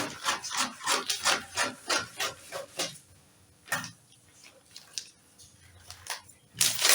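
Scissors cutting through fabric for a pleated peplum: a quick run of rhythmic snipping and rasping strokes, then a pause with a few isolated snips, close and fairly quiet, with no talk.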